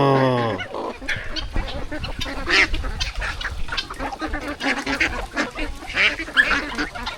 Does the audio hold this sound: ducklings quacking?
yes